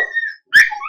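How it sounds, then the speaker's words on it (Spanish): Dogs indoors whimper and cry in high, thin whining tones, with a short pause and then a sharper yelping cry that trails into more whining, loud and close. "Ay, Dios mío, mis perros aquí, qué cosa tan seria, lloran"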